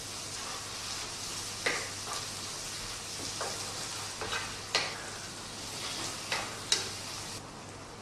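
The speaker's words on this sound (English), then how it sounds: "I'm going to put 1 heaped teaspoon of paprika in our sauce and stir that through and let that cook out for a minute or so" Heaped teaspoon of paprika stirred through a tikka masala curry sauce as it cooks out in the pan, a steady soft sizzle with several spoon scrapes and clicks across the pot.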